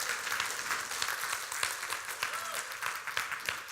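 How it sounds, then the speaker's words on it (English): Audience applause in a hall, a steady wash of many hands clapping with scattered sharper claps, moderately loud and continuous for a few seconds. "You can clap it up for these guys."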